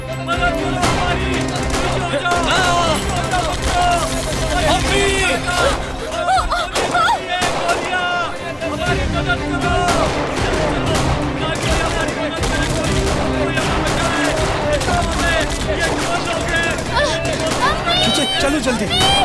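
Rapid bursts of gunfire crackle through a tense Turkish drama scene dubbed in Urdu, near and loud, repeating throughout amid frantic shouting voices and scuffling.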